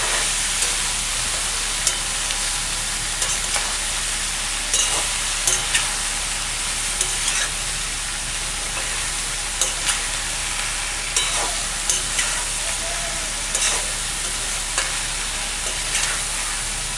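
Wild taro stolons (kochur loti) sauté with chilli powder in a pan. A steady loud sizzle runs throughout, with regular scraping strokes of a spatula on top.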